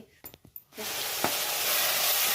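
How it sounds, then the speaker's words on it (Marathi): Tomatoes sizzling in a hot pan while being fried soft for a usal curry, starting with a few faint taps before a loud, steady frying hiss sets in and holds close up. "टमॅटो चांगलं तळून घेऊ आपण मऊ सुट होईपर्यंत तळून घ्यायचं आहे"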